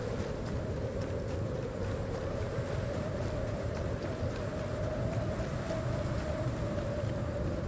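Steady, loud wind blowing in the survival video game Icarus, a continuous low roar with a hissy top layer that holds constant throughout, with no talking.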